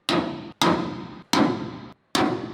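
A hammer strikes a center punch into a steel truck frame rail four times, each sharp, close, ringing hit decaying over about half a second, with short gaps between blows.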